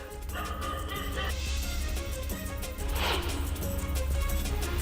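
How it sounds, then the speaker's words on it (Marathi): A pet dog barks loudly in repeated bursts at a leopard at night, the barks close and sharp over a low background rumble, with no talk. "पाळीव कुत्र्याने जोराजोरानं भुंकत या बिबट्याला पळवून लावलं"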